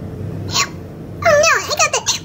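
A high, playful voice imitates hiccups as a couple of short squeaky yelps followed by a burst of giggly, babbling hic sounds.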